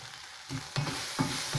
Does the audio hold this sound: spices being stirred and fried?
yes